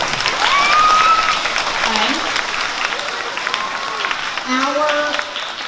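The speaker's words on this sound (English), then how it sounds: "let's give them a big round of applause." Steady applause from a crowd fills the whole stretch, dense and even, with a few whistles and faint voices mixed in.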